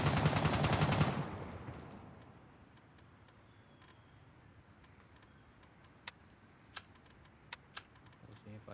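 A dense, loud burst of rapid automatic gunfire in Gray Zone Warfare opens the scene, then drops away to a quiet insect-like background, with a few sharp isolated shots near the end and soft voices talking.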